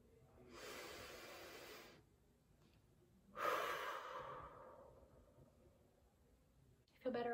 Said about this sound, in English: Take a deep breath with me, ready?